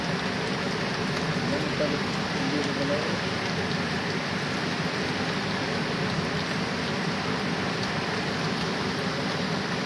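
Steady rain pours down in a constant, even hiss that never lets up, dense and close.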